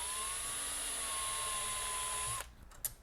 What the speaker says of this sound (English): just using the tap, the drill part of the tap,